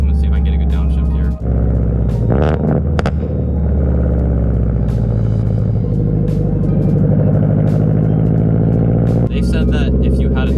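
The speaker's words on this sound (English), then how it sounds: "So I'm gonna see if I can get a good downshift here." A Subaru BRZ fitted with JDL UEL headers, front pipe and a Tomei 80R exhaust is downshifted. There is a loud close rumble with rising and falling revs and brief shift breaks, and a voice talks over it at times.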